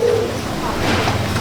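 Madrasi pigeons coo softly in a loft, a short, low burbling call close by over a faint hum of background noise.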